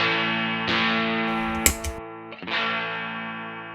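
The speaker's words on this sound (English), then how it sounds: "when we put the Sugar Shack on" Electric guitar driven through a True North Pedals Sugar Shack overdrive into a Tweed Junior amp, with strummed chords sustaining and ringing, warm and lightly gritty, a brief scrape midway and a fresh strum near the end.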